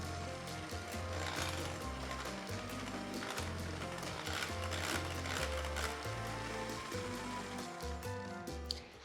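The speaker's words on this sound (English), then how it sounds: "Grab your electric mixer and we're just gonna whisk these together until they're nice and creamy." An electric mixer whisks cream cheese and icing sugar for a no-bake cheesecake, a steady close motor whir with rhythmic rattling of beaters against the bowl, continuous and without speech.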